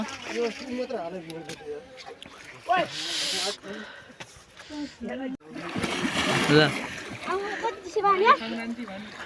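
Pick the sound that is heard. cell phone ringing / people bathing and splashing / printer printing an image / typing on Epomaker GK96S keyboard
people bathing and splashing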